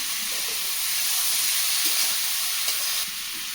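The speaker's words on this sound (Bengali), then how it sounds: "আলুগুলো দিয়ে দিচ্ছি" Potatoes hit hot oil in a frying pan while cooking Bengali pui saag with prawns, giving a steady, bright sizzle with soft stirring clicks and a slight drop in level near the end.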